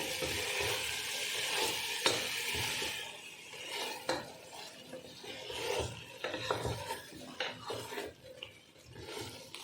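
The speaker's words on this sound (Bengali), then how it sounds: "মাঝে মাঝে ঢাকনাটা তুলে নেবে তুলে নিয়ে হালকা করে একটু নাড়িয়ে দেবে" Tangra fish curry is stirred lightly in a pan. Rasping spatula scrapes repeat in an irregular rhythm over a continuous soft sizzle, close and moderately loud, with no voices.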